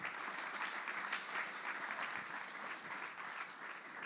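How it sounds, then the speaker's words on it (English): An audience applauding, a dense steady clatter of many hands clapping at even strength throughout. "let's applaud that answer"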